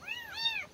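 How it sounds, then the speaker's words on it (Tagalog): A cat on a rural farm gives one clear, close meow that rises and then falls, with a short break partway through, in a quiet setting with no talking. "Ano ba itong pusa ko?"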